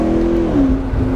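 McLaren 650S engine revving loud and close, a steady throaty drone that dips slightly in pitch partway through, with no voices over it.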